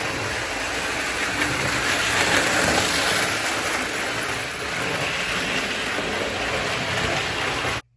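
A vintage German Bing toy rail car runs along a toy track, giving a steady, loud rumbling clatter that holds for several seconds before cutting off abruptly.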